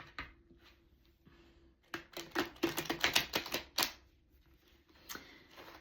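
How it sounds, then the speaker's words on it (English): Tarot cards being shuffled give a quiet rustle, then a quick run of crisp riffling clicks in the middle, fading back to faint handling, with no talking. "It's telling me to shuffle one more time."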